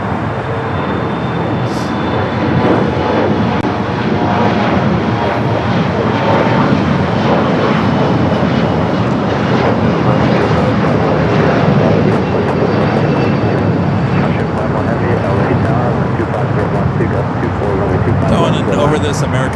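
An American Airlines Boeing Dreamliner passes at Los Angeles International Airport, its jet engines giving a loud, sustained, close roar that stays steady throughout. Voices talk under the engine noise.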